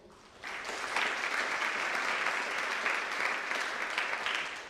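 After a quiet start, applause swells quickly from an audience at a school honors night awards ceremony, holding steady and full for several seconds before tapering slightly.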